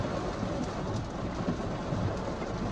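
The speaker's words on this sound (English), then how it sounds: "Why is it raining like this?" Heavy rain pours down steadily in a dense, close wash of noise that holds constant throughout, with no voices.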